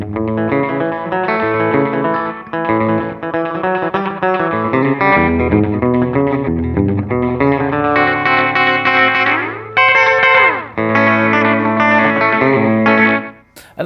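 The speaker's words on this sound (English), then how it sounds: "If I turn all the modulation off, then it's just a straight delay." Madbean Total Recall delay pedal, a Deluxe Memory Man style build, set to straight delay with modulation off, repeating a distorted, harmonically rich guitar line in loud continuous echoes, with a pitch-bending swell near the end.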